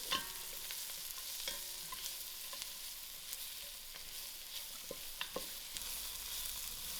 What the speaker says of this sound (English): I will give this a good mix.